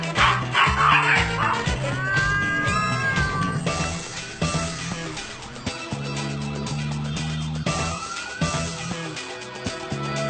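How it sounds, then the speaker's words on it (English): Dogs break up a cat fight, with barking and meowing tangled over a busy, loud mix that includes music or other overlaid sound. "The dogs break up cat fights."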